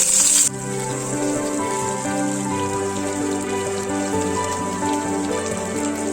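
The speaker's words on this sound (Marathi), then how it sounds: "आता या फोडी चांगल्या तेलामध्ये आपल्याला थोड्याशा रंग बदलेपर्यंत आपल्याला अशा हलवून घ्यायच्या असतात" Bitter gourd slices frying in hot oil in a pan with garlic and asafoetida: a steady, close crackling sizzle that jumps briefly louder at the start, then holds even throughout with no talk.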